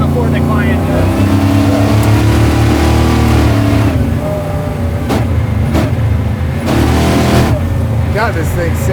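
A 900HP supercharged Jeep Willys Ultra 4 truck engine rumbles loudly up close, revving and falling through several throttle blips, with people talking over it.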